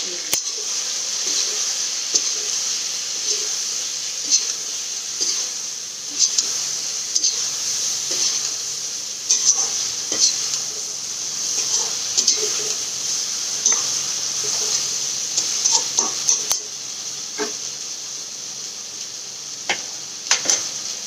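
Labra mixed vegetables being stirred with salt in a pan, a constant sizzle under repeated scraping and clinking of a spoon against the pan, close and clear.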